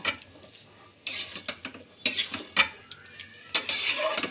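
A metal spatula stirs and scrapes tomato chutney in a pan, producing several clattering knocks and scrapes in irregular bursts, close and fairly loud, separated by brief quiet gaps.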